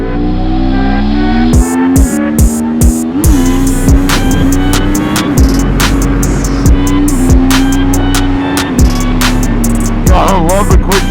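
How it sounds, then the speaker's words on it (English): A sport motorcycle engine revs loudly and close, its pitch climbing through the gears with a run of sharp, brief cuts as a quick shifter snaps each change. "I love the quick shifter on this bike, man."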